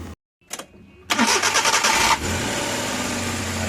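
A Suzuki K6A engine in a DA64V van cranks briefly and catches, then settles into a steady, close idle.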